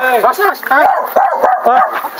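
A dog barks and whimpers in quick, excited, high-pitched bursts close by, overlapping with shouting voices, as a large snake emerges at a house.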